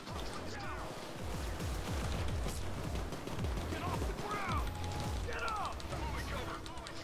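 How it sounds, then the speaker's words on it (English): A turret gun firing in the video game Payday 2, rapid close bursts of automatic gunfire repeating in quick rattling volleys, with chirpy mechanical effects and faint voices in the mix. "Dude, the turret gun, man."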